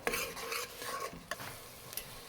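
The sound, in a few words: roasting coriander powder masala in oil, stirring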